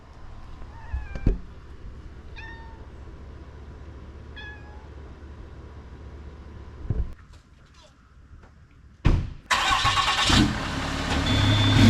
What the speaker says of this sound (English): Oh, look, the Rat Cat's made it down too